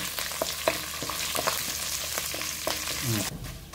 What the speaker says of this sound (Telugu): ఆయిల్ హీట్ అయింది. సో దినుసులు అయితే ఇవన్నీ వేసేసుకుందాము.